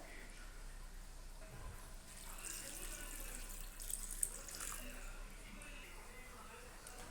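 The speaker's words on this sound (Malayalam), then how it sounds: "ഞാനിവിടെ ഒരു 2 കപ്പ് വെള്ളം ചേർത്ത് കൊടുക്കുന്നുണ്ട്." Two cups of water poured into a cooking pot of beef for a Kerala-style beef curry, giving a steady, moderately loud splashing hiss that runs the whole time, with a brief brighter burst near the middle.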